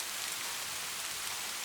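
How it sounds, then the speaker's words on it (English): Gentle rain falling, a soft, even hiss of countless drops without pauses or distinct impacts, steady and moderately quiet, with no voices. "The rain starts exactly at midnight."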